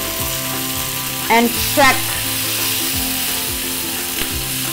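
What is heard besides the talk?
octopus sizzling in a hot pan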